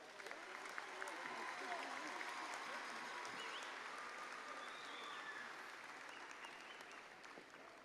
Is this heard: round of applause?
yes